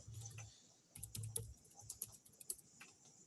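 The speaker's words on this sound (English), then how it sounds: "sorry, I was typing it" Quiet clicking of keys on a computer keyboard during an online seminar, irregular bursts of typing with brief pauses, faint and close.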